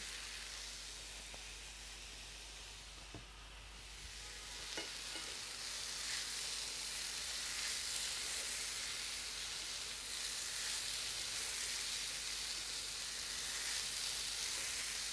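Kulekhara greens fry in a pan with a little sugar, making a soft, steady sizzling hiss that swells slightly partway through, with faint stirring scrapes and no voices.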